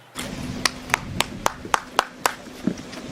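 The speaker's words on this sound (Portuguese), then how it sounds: "Na falta da campainha, o jeito é usar as palmas e também o gogó." A person claps by hand at a rural house to call the occupants, eight or nine sharp, evenly spaced claps ringing out over a quiet outdoor background.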